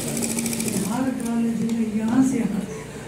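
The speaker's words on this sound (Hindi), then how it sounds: "ये साइड की सिलाई लग गई है" A sewing machine stitches the side seam of a pair of trousers, a steady close mechanical whir and rapid needle chatter running throughout while someone talks over it.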